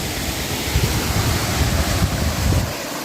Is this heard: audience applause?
no